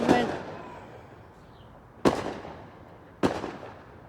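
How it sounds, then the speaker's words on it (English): Three sharp fireworks bangs, fairly close and loud, each followed by a crackling, decaying tail, with roughly two seconds, then one second, between blasts. "fireworks."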